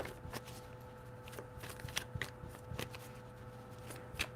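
Tarot cards are shuffled close by in a quiet room, a run of soft riffling flutters and taps spread unevenly over a few seconds.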